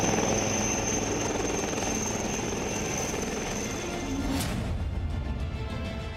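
A combat helicopter over snowy Ladakh near the LAC flies with a continuous dense rotor and engine roar, steady and fairly close throughout, with a brief sharp burst partway through.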